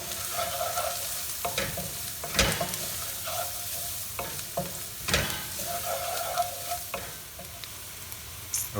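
Aromatics for an Indian-style shrimp creole sizzle in a pan with garlic, coriander and thyme, steady frying crackle broken by repeated sharp scrapes and clacks of a spoon stirring.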